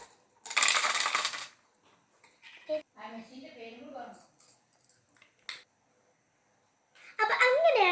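Candy is dropped into a homemade candy dispenser, landing in a loud rattling burst, then a second clattering burst at the end. Soft handling noises and a voice are heard between the two bursts.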